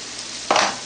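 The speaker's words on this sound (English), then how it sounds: "A lot of the liquid that you've seen is cooking off from the onions and the vegetables that we put in it." A stuffed pepper filling of onions and vegetables cooking in a pan, a steady sizzle with a brief louder stirring scrape midway, close and alone.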